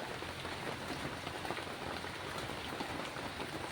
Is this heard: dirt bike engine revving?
no